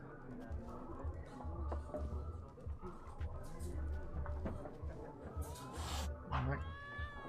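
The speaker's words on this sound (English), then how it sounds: "That cat doesn't like me." A cat in The Witcher 3 meows and yowls several times in a drawn-out, complaining way, layered over busy tavern-like ambience and muffled voices.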